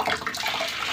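Water poured or run into a basin while hand-washing laundry, a brief, steady, splashing rush close by, with no voices.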